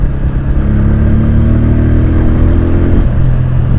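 A Bajaj Pulsar N150 motorcycle engine revs hard and holds at high rpm while the bike fails to gain speed, then drops sharply to a lower, steady drone, loud and close.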